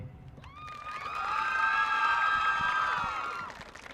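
Crowd at a high school marching band event on an athletic field erupts in loud cheering and whoops for the band's support people, the shouting swelling and sustaining, with applause underneath, before easing off.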